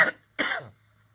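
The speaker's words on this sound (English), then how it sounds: "Yeah, that's the cough." A sick man coughs twice, a short hack followed by a longer, rougher cough with a throaty tail, close to the microphone, then silence.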